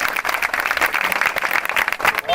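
Audience applause at a public gathering, uneven clapping from a crowd, fairly loud and close, with some voices mixed in.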